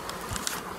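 A faint, steady buzzing of bees, close and continuous, with no voices.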